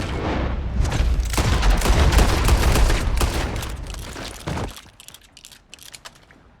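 Heavy gunfire in Red Dead Redemption 2 roars in a dense, loud barrage for several seconds, then breaks off into a few scattered, fainter shots and clicks.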